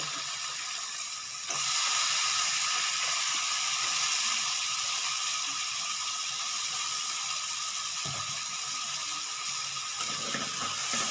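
Dried puti fish dropped into a pan of chili and turmeric spice mix, setting off a loud, steady sizzle and crackle of frying that holds throughout, with a few faint clinks of a utensil.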